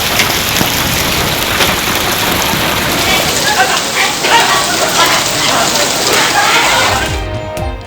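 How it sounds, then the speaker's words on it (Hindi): Heavy rain falls on outdoor surfaces during widespread rainfall in Islamabad, making a dense, steady, loud hiss of countless drops throughout before it cuts off abruptly near the end. "मुल्क भर में बारिश और जालाबारी का सिलसिला जारी।"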